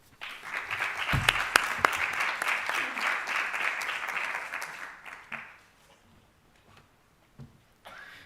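An audience at a Chilean education forum applauds a student speaker, a crowd clapping strongly for about five seconds before fading out, followed by a few scattered claps and quiet.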